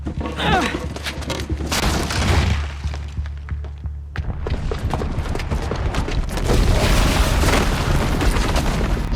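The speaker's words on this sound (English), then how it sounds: "the booby trap on the bomb downstairs is gonna get set off" A bomb detonates in Horizon Zero Dawn, a loud deep boom with rumbling debris that fades, then a brief lull before a second sustained roar of heavy blasts and crashing rubble.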